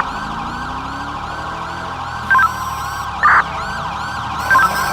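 Police and ambulance sirens wail continuously on a roleplay server patrol in GTA San Andreas, with a steady, loud cycling tone and three short, sharp chirps layered on top, and no voices.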